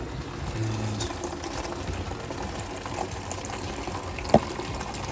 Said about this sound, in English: I've reduced the flow through the plate heat exchanger with the wort.